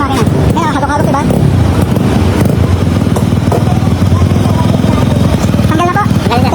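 A 2019 Honda Beat scooter engine idles roughly and unevenly with its engine oil temperature sensor pulled out, a steady throbbing running throughout under a voice talking nearby.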